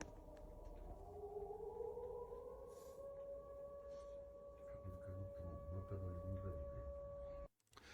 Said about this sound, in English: We hear the air raid sirens sounding in the background.